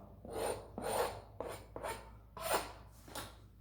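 Old glazing is scraped off a vintage wooden window sash in a series of about six distinct rasping strokes, close and fairly quiet, each a short gritty scrape with brief pauses between.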